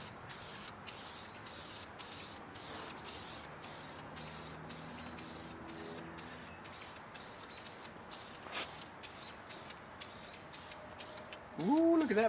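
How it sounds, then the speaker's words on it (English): A spray can lays down Pontiac Blue Metallic engine paint on a 1970 Pontiac LeMans engine, in repeated short bursts of hiss close by, separated by brief gaps, with some background murmur. "You can shake this guy up, lay down a couple of coats of paint."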